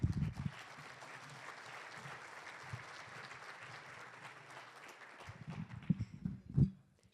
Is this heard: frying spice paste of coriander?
no